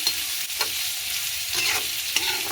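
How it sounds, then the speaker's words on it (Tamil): Dried anchovy puttu kothu being stirred in a frying pan, a steady close sizzle with several scraping stirs of the spatula across the pan, no talking. "அதோட சேர்த்து கிளறி விடுறோம்"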